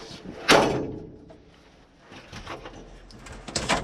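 A suicide-style door on an Austin 245F truck cab opening or shutting, a sharp loud thud near the start followed by quieter shuffling and faint clatter.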